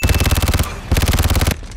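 Rapid machine gun fire from The Purge: Anarchy, two loud sustained bursts of evenly spaced shots separated by a short pause, close and dominant with no talk.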